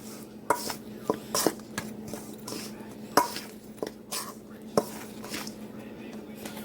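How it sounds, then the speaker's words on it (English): A spoon mixes cookie batter with vanilla in a bowl, giving repeated sharp clacks and scrapes against the bowl at an uneven rhythm under a low steady hum, close and moderately loud, with no talk. "I'm just going to take a spoon and mix this up"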